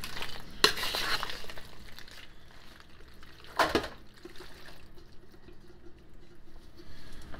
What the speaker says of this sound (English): we'll go ahead and give it one more stir